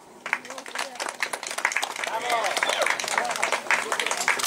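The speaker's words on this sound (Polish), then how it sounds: "bardzo proszę o gromkie brawa" Applause from a crowd at an outdoor equestrian picnic at an agricultural school, dense steady clapping that swells and holds loud throughout, with some crowd voices mixed in.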